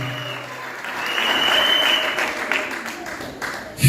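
Applause from a church congregation at a Women's Day worship service, a swelling wash of clapping that rises, holds and fades slightly, with voices mixed in.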